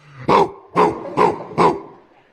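A person mimics a dog with four short, punchy woofs in an even rhythm, loud and close, with no other talking.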